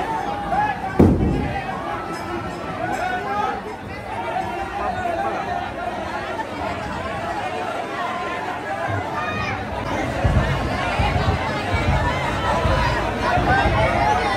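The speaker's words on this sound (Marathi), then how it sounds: "मित्रांनो गर्दी बघा, गर्दी फुल तुफान गर्दी." Loud, dense crowd chatter and shouting fills the air at a Bahiri Dev palanquin procession in a village, a continuous hubbub of many voices with occasional thumps and bangs.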